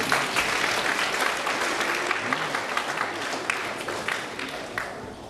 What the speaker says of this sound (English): You can, I guess, give them some applause in a sense.